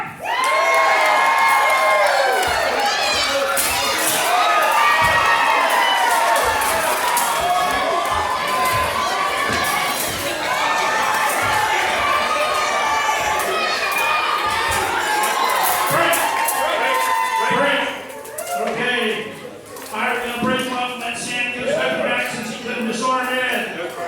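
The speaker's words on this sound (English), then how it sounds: "let's cheer for them" A museum audience cheers and whoops loudly at an armored combat demonstration, with bursts of shouting and yelling, some clattering impacts, and a voice talking over the noise toward the end.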